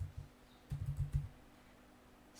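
A short burst of keystrokes on a computer keyboard as an address is typed into a browser. The tapping is quick, faint and close, followed by quiet room tone with no talk.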